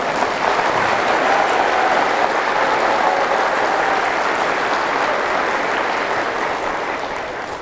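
Audience applause at a talk held in Jakarta, a dense, loud, sustained roar of many hands clapping together that holds steady and then eases off slightly toward the end.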